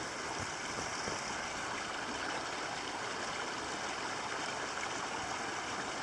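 A mountain river at Grimselpass rushes steadily in snowy surroundings, a constant broadband wash of flowing water, faint and even, with no voices.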